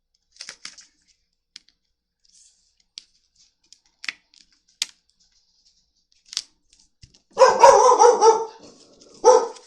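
A dog indoors barks in a loud, close burst near the end at someone outside, preceded by scattered faint clicks and taps in an otherwise quiet room.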